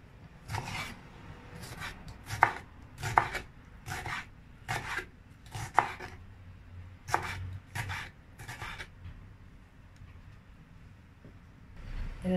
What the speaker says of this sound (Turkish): Burada bir adet domatesimi de küp küp doğrayacağım.